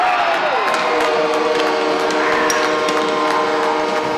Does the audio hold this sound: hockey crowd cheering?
yes